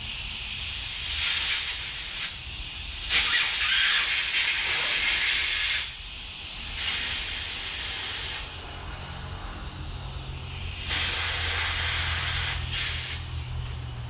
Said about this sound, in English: Let me just hit that with a little bit of air.